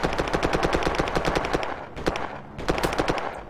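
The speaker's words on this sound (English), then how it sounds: "He's shooting at me." Rapid automatic gunfire from an enemy in the military shooter game Project Reality, long sustained bursts followed by a pause and two shorter volleys, loud and close with no talk over it.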